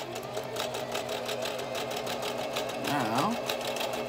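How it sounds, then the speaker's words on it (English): A sewing machine stitches in a zipper with a fast, steady mechanical whir and rhythmic needle clatter, while a person speaks briefly over it near the end. "And continue sewing."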